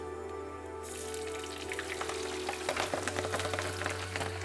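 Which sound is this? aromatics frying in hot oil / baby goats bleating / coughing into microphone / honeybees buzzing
aromatics frying in hot oil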